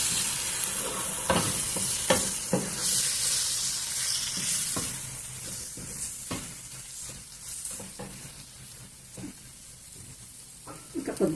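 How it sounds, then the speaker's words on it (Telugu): Broccoli and beaten eggs are stirred in a sizzling pan, a continuous frying hiss punctuated by regular scraping knocks of the spoon, close and clear. "కొంచెం కలుపుకుందాం"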